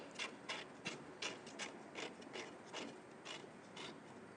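A part being tightened while assembling a Segway gives a quiet, close rhythmic rasping and ratcheting, about a dozen quick strokes, with no talk.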